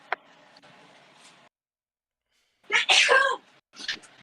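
A single sharp human sneeze bursts out close and loud after a moment of quiet, followed by a brief vocal reaction, amid a tabletop role-playing game session with talk just before.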